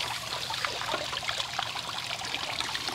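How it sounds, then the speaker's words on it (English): Water drains from a 20-year-old RV hot water tank in a steady, close trickle that splashes and gurgles without a break. "I know it's just a drizzle, but look at how much clearer this water looks coming out."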